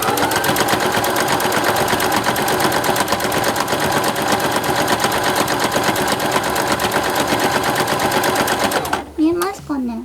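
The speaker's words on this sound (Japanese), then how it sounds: "今度は T シャツの裾の一番下のラインを縫っていきます" A sewing machine stitches along a T-shirt hem with loud, fast, continuous rattling that runs steadily for about nine seconds and then stops, after which a person briefly speaks.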